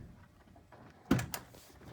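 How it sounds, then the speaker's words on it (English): A rear door on a 2011 Ford Crown Victoria P7B police car is slammed shut. It gives one close, solid thunk followed by a quick latch rattle, with quiet room noise before it and no talk. "shut the door"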